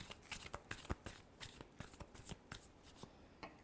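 Tarot cards shuffled by hand in a steady riffling rhythm, a run of crisp, close papery bursts repeating for several seconds with no talking.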